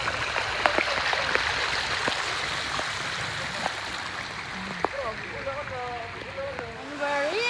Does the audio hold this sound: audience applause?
no